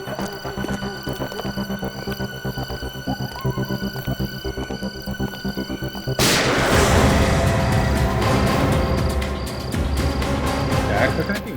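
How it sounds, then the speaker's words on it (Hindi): Gunfire in a Hindi TV crime drama scene: a quiet, throbbing hum with rhythmic pulses gives way to a sudden louder burst of booming, crackling shots that stays loud to the end. "आवाज तो गोली चलने की आवाज है।"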